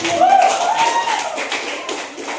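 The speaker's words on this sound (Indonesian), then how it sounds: "Kita tepuk tangan dulu untuk" A classroom group claps hands in quick, dense rapid applause, fairly close, with a voice calling out over it at the start.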